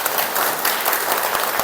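A church congregation applauds together in a dense, steady burst of clapping that fills the room at even loudness throughout.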